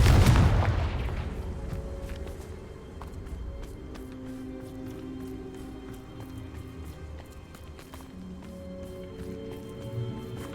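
Confringo spell in Hogwarts Legacy opens with a heavy booming explosion that decays over a couple of seconds, followed by a busy backdrop of game effects, footsteps and soft musical tones.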